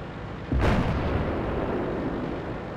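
A single loud howitzer shot from an M4 in a World of Tanks-style tank video game, a sharp heavy blast followed by a long rumbling decay.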